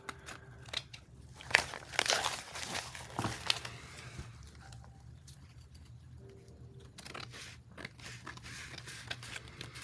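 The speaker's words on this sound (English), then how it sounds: "right when you put your scissors to it and start trimming, it falls right off" Scissors trimming lace for a junk journal, giving several crisp snips and crinkling cuts close by, some in quick bursts, with quieter rustling between.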